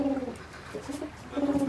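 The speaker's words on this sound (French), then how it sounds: "j'ai une jolie tourterelle sous les yeux" Turtle dove cooing near a boat at anchor, with soft, low, rolling coos at the start and end and a quieter pause in between.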